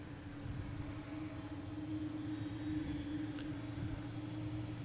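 An airplane taxiing at Boston Logan International Airport gives a steady, continuous engine drone and hum from a moderate distance, holding even throughout with no talk.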